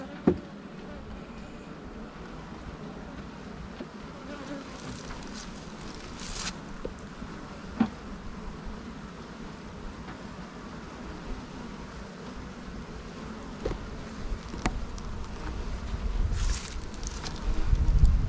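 Bees buzz around a 10-frame Langstroth hive outdoors, a steady low drone mixed with wind noise and occasional handling knocks, growing louder toward the end.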